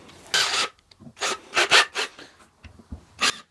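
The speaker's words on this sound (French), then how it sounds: "Je vais tester de percer un rondin de bois." A Ryobi 18V drill driver bores into a wooden log in close, rasping bursts of grinding that start and stop several times.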